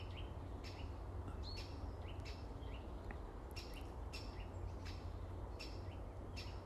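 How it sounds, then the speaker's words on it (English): Birds calling outdoors, faint and distant: sharp repeated chip notes and a series of short tooting calls, scattered irregularly over a constant low background hum. "You hear the chip, chip, chip, and then the toot toot toot toot."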